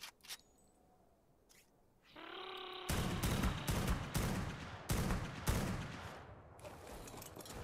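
A gun being loaded in ARK Survival Ascended gives a brief humming whir, then a string of loud, close gunshots follows in uneven clusters with short pauses between them.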